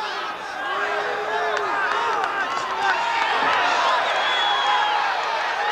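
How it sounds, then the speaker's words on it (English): The crowd at a boxing match between two fighters makes a continuous, loud roar and cheering throughout, with a commentator talking over it. "the crowd making a lot of noise again"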